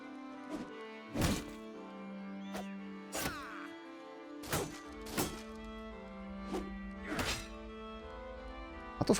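Battle Brothers combat, a series of dull thunking hits spaced a second or so apart over a steady low game tone, each impact short and fairly quiet.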